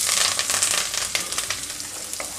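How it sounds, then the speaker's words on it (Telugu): Finely chopped onion, green chilli and curry leaves fry in oil for a potato and tamarind-leaf fry, a steady bright sizzle with light crackles and stirring scrapes, alone and fairly close. "ఇవన్నీ ఇందులో వేసి వేయించుకుంటున్నాను."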